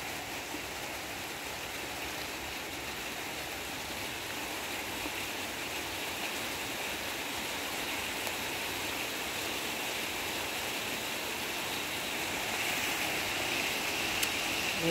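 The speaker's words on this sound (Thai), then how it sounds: "โอ้ฝนมาแล้วฝนมาแล้ว" Rain begins falling outdoors during a sweet star gooseberry harvest in the first rain of the year, a steady broadband hiss that grows slightly denser over time with no voices.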